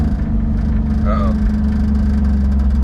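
Chevrolet Camaro engine idling after a year without running, a steady low rumble heard up close, with a brief voice or squeak partway through.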